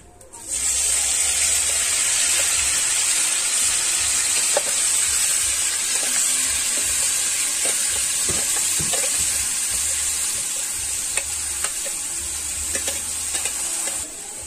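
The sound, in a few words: onions frying in pan for chicken surwa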